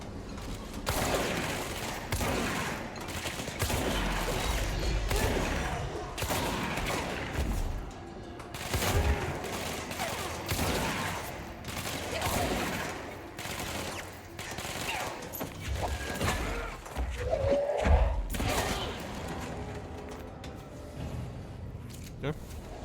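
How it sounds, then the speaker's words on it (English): Shotgun blasts ring out in the video game Control, repeated loud bursts amid constant combat noise and crashing debris, with someone talking over the action. "Honestly, shotgun. Very good. Get close and personal and fire."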